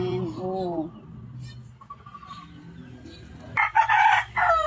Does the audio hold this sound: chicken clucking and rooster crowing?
yes